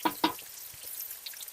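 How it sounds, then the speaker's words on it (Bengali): Pangas fish fry in hot oil, giving a light, crackling sizzle with two sharp pops near the start and then scattered soft spits and crackles, close and without talk. "মাছগুলো ভাজতে যা ভয় লাগছে না, ফেটে না মুখে চলে আসে।"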